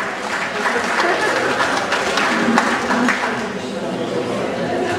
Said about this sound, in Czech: Ten potlesk si myslím, že byl velmi dobrý